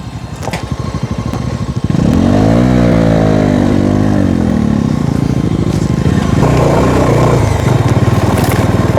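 A Bajaj Dominar motorcycle rides a rough, bumpy road near Bethanchwok in Kavre, its engine loud, close and steady, with revving pitch sweeps and rattling jolts across the whole stretch.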